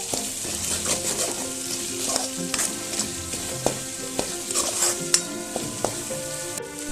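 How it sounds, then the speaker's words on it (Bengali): Masala with salt being sautéed in a pan for a foli fish curry: constant close sizzling broken by frequent spatula scrapes and utensil clinks, with no voice over it. "এবার সবকিছুকে আমি ভালো করে কষিয়ে নিচ্ছি"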